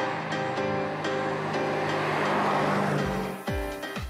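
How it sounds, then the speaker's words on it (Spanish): A Chevrolet Corvette Grand Sport with a naturally aspirated 6.2-litre V8 rumbles loudly and steadily on the street, then revs in a few sharp bursts near the end. "El sonido del Grand Sport, imposible de pasar desapercibido en la calle."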